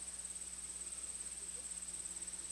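Faint, steady insect chirping, a continuous high trill pulsing rapidly over a quiet background hum.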